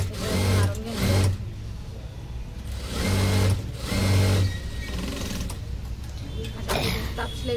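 A sewing machine runs in short bursts while topstitching blouse fabric, its low motor hum rising and falling across several stitching runs, with brief pauses between them and light talk underneath.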